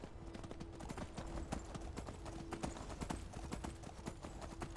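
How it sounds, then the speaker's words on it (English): Horse hooves clip-clop steadily in Skyrim VR, a continuous rhythmic run of evenly spaced hoofbeats at moderate loudness, with no talking over them. "It's kind of weird standing and being on a horse."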